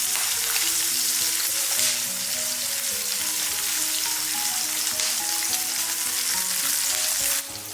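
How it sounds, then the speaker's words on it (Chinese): Pork belly slices fry in a pan for a Korean-style barbecue dish, giving a loud, steady sizzle with crackling spatter throughout, close and continuous, briefly easing near the end. "我们煎的时候一定要给它勤翻动，"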